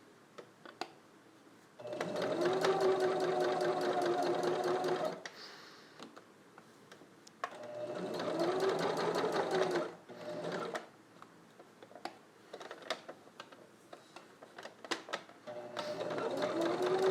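A sewing machine stitches a fabric Spider-Man test mask in the style of the MCU suit, running in three long, steady bursts of rapid mechanical clatter separated by quiet pauses filled with faint handling noise.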